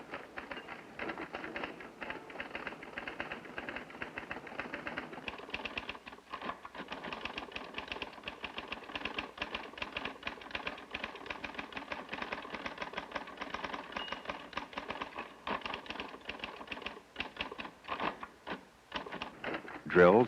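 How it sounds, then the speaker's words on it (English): Typing drills on a 1972-era typewriter, a fast, steady stream of keystrokes with a continuous mechanical hum underneath, running for about twenty seconds; a voice can be heard faintly in the background. "a typist who wants to improve her speed never stops doing typing drills"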